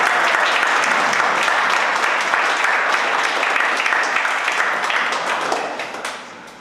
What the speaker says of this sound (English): Take a bow and a round of applause.